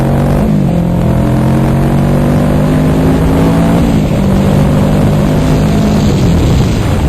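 A motorcycle accelerates hard at full throttle, a loud, close engine roar whose pitch climbs steadily, drops briefly at a gear change, then climbs again with heavy wind noise throughout.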